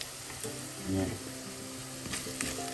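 Sizzling frying as a seabass fish curry is stirred in a pan, with continuous hiss and soft scraping stir movements up close.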